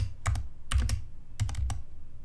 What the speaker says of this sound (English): what you need to do is you need to type sudo apt install wireshark